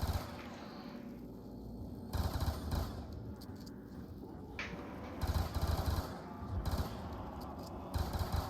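Bursts of automatic Cap 40 gunfire from Call of Duty Black Ops 2 come in several rapid strings separated by brief lulls, loud and close in the game mix.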